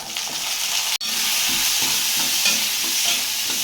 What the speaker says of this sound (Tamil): பருப்பு வறுத்துக்கலாம் எண்ணெய் கொஞ்சமாக ஊற்றிக்கலாம் வறுபடுற அளவுக்கு வறுத்துக்கலாம்